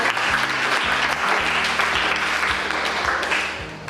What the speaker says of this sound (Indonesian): Kita kasih aplaus dulu ya